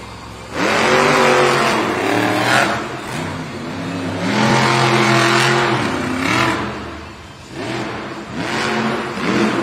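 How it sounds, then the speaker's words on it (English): A Monster Jam monster truck engine roars and revs repeatedly at an event in Tampa, Florida, in loud surging bursts with rising and falling pitch, close up and with no talking. "our next competitor, Brianna Mahan, Bailey Circuit Monster Jam Truck."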